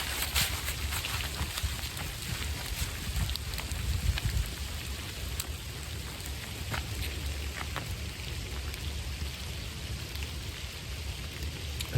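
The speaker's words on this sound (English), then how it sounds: "And it's raining." Steady rain patters on surfaces all around in a forest, a constant hiss with occasional sharper drips, moderately loud and uninterrupted by voices.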